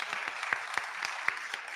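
Steady applause from a crowd at a student panel, moderately loud, with individual claps popping out of the dense wash of clapping.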